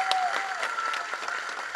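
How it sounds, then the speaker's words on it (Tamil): Audience applause for Siva at a film event, a short burst of dense clapping that stays steady and fairly close throughout. "அவனுக்கு ஒரு பலத்த கரகோஷம் கொடுங்க."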